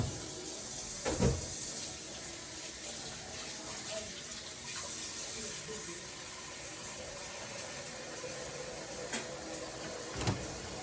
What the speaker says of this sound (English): So I'm gonna add some water to the pot.